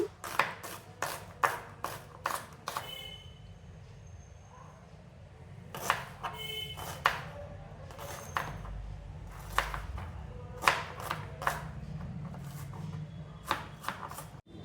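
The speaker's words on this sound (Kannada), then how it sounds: "ಈಗ ಈರುಳ್ಳಿ ಕಟ್ ಮಾಡ್ಕೊಳ್ತಿದ್ದೀವಿ" A knife chops onion on a cutting board while cooking, with quick bursts of sharp taps coming in clusters and short pauses between them, fairly close and moderately quiet.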